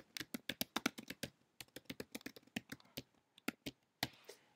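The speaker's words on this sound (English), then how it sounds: "type in the comment" Rapid keystrokes on a computer keyboard while typing a comment in a document, a steady run of close, crisp clicks with brief pauses and a final heavier tap near the end, no voices.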